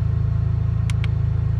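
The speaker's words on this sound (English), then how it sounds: "So got the car started" A Toyota Celica fitted with a 1MZ-FE V6 idles steadily up close, a low, even rumble with a regular pulse throughout, joined by two brief hissy clicks near the end.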